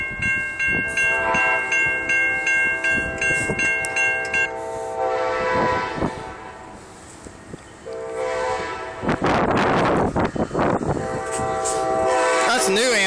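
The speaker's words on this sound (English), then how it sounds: "Amtrak coming down. That's the new one." A new Amtrak passenger train passes through Effingham, Illinois, sounding long horn blasts over a loud, rising rumble and rattle of cars rolling by, with a person speaking briefly nearby.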